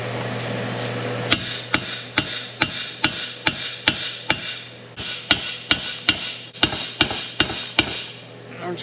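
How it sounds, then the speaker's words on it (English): Hammer driving a chisel against a C3 Corvette control arm bushing held in a vise, a run of about fifteen sharp metallic strikes at a steady rhythm over a low background hum, close and loud, no talking. "chisel and hammer"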